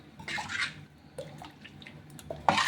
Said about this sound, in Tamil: இன்னும் கொஞ்சம் நான் தண்ணி சேர்த்துக்கிறேன்